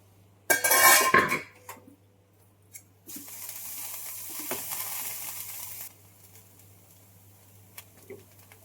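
A lid clatters off a metal pot of boiling fish curry with raw mango, followed by a burst of hissing and bubbling from the boil-over that settles into a softer simmer, close by.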